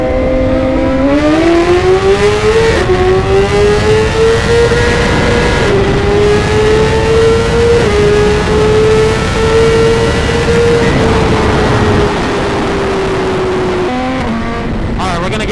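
BMW S1000RR superbike and other sportbikes such as a ZX10, CBR-RR and GSXR in a Miami roll race, one loud close engine screaming upward through the gears with brief shift dips, then easing off near the end.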